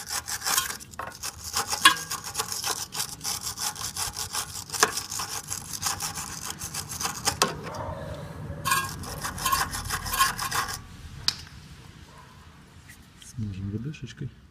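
A small thread on a front control-arm joint of a Daewoo Matiz is scrubbed clean with a brush, giving steady close rasping strokes that run for about eleven seconds, then a pause before a short final burst.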